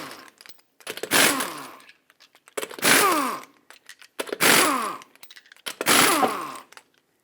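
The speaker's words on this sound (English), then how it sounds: "Use a 19mm socket, remove all 5 lug nuts, and then remove the wheel." A power tool spins off car lug nuts with a 19mm socket on a 2008-2012 Honda Accord, four loud separate bursts of ratcheting whir, each a second or so long with short quiet gaps between them.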